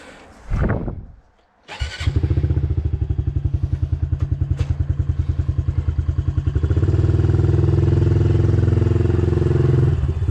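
A motorcycle engine coughs and catches after a brief rough start, then settles into a steady, close, pulsing idle and revs higher partway through as a beginner learns to ride, with no talk over it.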